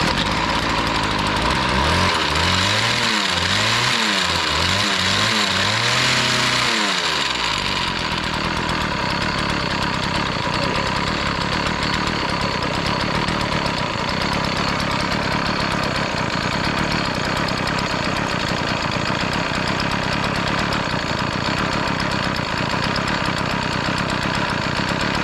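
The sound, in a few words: cheap chainsaw engine running and idling after carburetor adjustment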